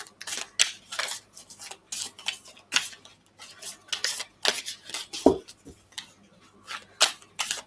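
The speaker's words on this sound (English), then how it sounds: "As I'm shuffling the cards for you, Melody, I'm very much drawn to study." Tarot cards being shuffled by hand, a run of crisp riffling and slapping bursts spaced irregularly, with close, dry flicks and one heavier knock partway through, no talking.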